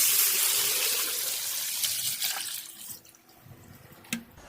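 Five gallons of water gush and splash into a Yeti bucket, a loud broadband rush that thins out into trickling and a few drips.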